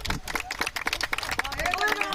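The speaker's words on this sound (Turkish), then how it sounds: "Hakan Bey'i alkışlayalım." A crowd claps together for Hakan Bey at an outdoor Victory Day gathering by a canyon, a dense run of hand claps with voices and chatter mixed in.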